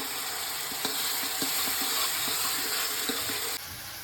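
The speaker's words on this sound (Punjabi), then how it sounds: "ਇਹਨਾਂ ਦਾ ਰੰਗ ਚੇਂਜ ਹੋਣ ਤੱਕ ਆਪਾਂ ਇਹਨਾਂ ਨੂੰ ਹਲਕਾ ਜਿਹਾ ਫਰਾਈ ਕਰਾਂਗੇ" Garlic for jeera aloo fries lightly in a pan with a soft, steady sizzle and faint scattered clicks and taps of stirring, ending in a slightly quieter hiss.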